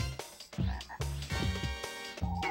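Frogs croaking in the N64 video game Glover, a series of loud, close, throaty croaks in quick irregular bursts, with brief gaps between calls.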